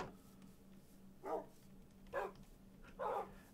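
Dogs bark at kennels in a video game, three short faint barks spaced about a second apart over a quiet steady background tone.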